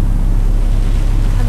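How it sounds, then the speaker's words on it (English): A sailboat motor-sailing under engine power on a coastal passage home from Wirrina toward Glenelg. It gives a loud, steady low engine drone mixed with wind buffeting the microphone and water rushing past the hull. "Well, we are motor sailing now at the moment."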